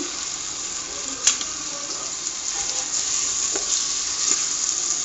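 Prawns cooking in a pan, releasing water as they sizzle, heard as a loud steady hiss with a couple of sharp utensil clicks.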